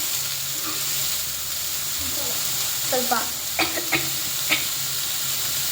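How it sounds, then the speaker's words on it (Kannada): Onion frying in oil in a home kitchen at night, a low steady sizzle with a few sharp stirring clinks and scrapes of a utensil against the pan, fairly quiet and close, no talking. "ಗೋಲ್ಡ್ ಕಲರ್ ಆಗೋವರೆಗೂ ಅದನ್ನ ಫ್ರೈ ಮಾಡಬೇಕು ಎಣ್ಣೆಯಲ್ಲಿ"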